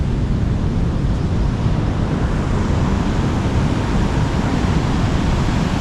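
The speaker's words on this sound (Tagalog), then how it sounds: "Apakalakas na alon." Very strong ocean waves pound a tidal pool shore in Casiguran, Aurora, a dense, continuous roar of surf and wind that stays loud and steady throughout with no voices.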